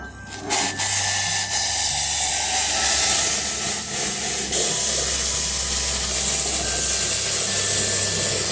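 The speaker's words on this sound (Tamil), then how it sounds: "இன்னைக்கு கொதிக்கிற தண்ணி எடுத்து இதில் ஊற்றிக்கலாம்." Loud, continuous hissing and sizzling as boiling water is poured onto fried semolina in a pan for rava kesari, steady throughout with a few faint clinks.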